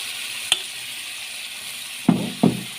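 Potato slices dropped into a pan with tomato juice, giving a brief tick followed by two short bursts of sizzling, close and moderately loud.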